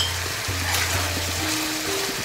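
Mango pieces are stirred into a chicken sauce in a pan over medium-low heat, a soft continuous sizzle close by with gentle stirring movement underneath.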